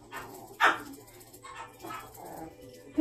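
A small Maltipoo dog barks in several sharp, close yips spread across a few seconds, with soft whimpering between the barks.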